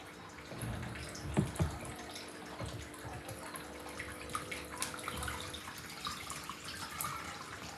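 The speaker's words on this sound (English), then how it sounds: "now we can add separately for all it's the cold water. like a waterfall." Cold water poured into an aquarium tank over substrate, a continuous faint splashing trickle like a small waterfall, with a couple of brief louder knocks near the start.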